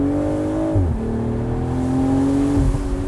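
Engine note of a 2023 BMW Z4 M40i roadster running with the top down: a steady, loud drone with shifting pitch as revs rise and fall, with brief pops from backfires near the middle and end.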